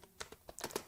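Quick burst of about a half-dozen soft clicking keystrokes on a computer keyboard while typing C++ code, faint and close.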